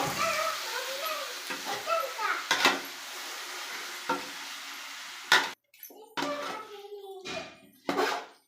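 A spoon scrapes and clinks through a chicken biryani mixture in a pot, with short bursts of stirring between stretches of a voice talking nearby.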